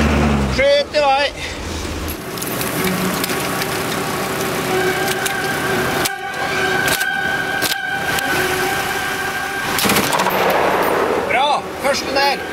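Rifle shots at a military biathlon shooting range, a few sharp cracks spaced about a second apart amid loud, busy background noise and excited voices.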